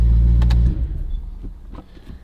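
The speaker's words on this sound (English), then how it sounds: "Kind of hard to talk over the exhaust." A BMW M3 E90 engine idles with a loud, deep exhaust rumble that cuts off abruptly as it shuts down, leaving faint clicks and a quiet interior.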